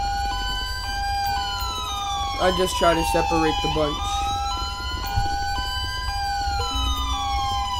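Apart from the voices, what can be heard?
police sirens in a video game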